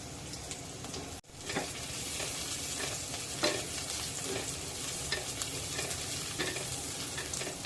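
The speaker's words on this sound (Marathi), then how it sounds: "चार पाच पाकळ्या लसणाच्या टेचून आणि एक मिरची टेचून घातलेली आहे तिला आपण गुलाबी रंग येईपर्यंत परतायचा आहे" Crushed garlic cloves and a green chili frying in a pan over low heat, a dense continuous sizzle that cuts out for an instant early on, then resumes with faint stirring ticks.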